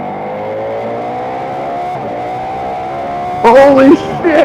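A Ducati Diavel V4 motorcycle engine hums steadily while riding, its pitch rising slowly, then someone speaks over it near the end.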